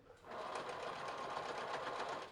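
Sewing machine running steadily as it stitches the inside seam of stretched fabric ankle cuffs on bubble gum joggers, a continuous close whirring buzz lasting about two seconds after a brief quiet start.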